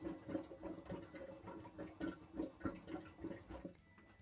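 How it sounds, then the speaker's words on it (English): A yacht's shower drain pump runs close by with a rhythmic pulsing churn of water, regular throbbing surges repeating about every third of a second before it stops near the end. "afterwards pump out the water from the well that I mentioned earlier"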